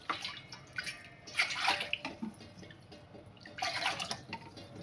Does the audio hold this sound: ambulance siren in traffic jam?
no